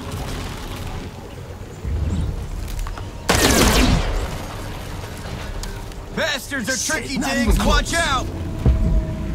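Bursts of gunfire in the video game Miasma Chronicles crackle amid background noise, with a loud volley partway through and voices chattering toward the end.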